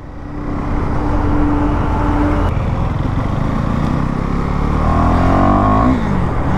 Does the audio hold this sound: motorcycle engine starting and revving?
yes